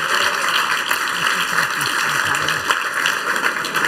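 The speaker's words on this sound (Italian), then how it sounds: "Un grande applauso a Sally Fisher." Audience applause at a New York Italian movie award ceremony, a steady wash of clapping from a crowd with a voice speaking over it.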